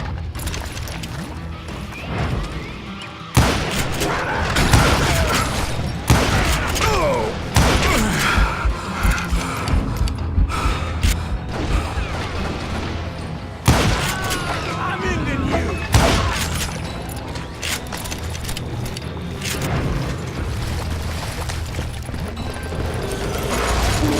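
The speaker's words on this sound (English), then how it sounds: "a fusillade of bullets come raining down from on high" Gunfire raining down from above during a shootout in the Call of Juarez: Gunslinger game, dense crackling shots and impacts packed throughout, loud and continuous with sharp bursts.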